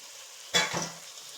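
Capsicum dropped into a hot frying pan, already holding chicken, for pasta, setting off a sudden loud sizzle that fades over about a second.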